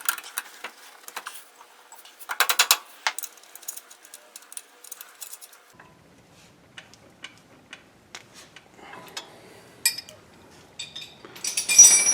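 Ratchet tightening a ball joint bolt on a Chevrolet Trailblazer or GMC Envoy, faint scattered clicks and small metallic taps spread over a quiet stretch, with a brief denser burst of clicking near the end.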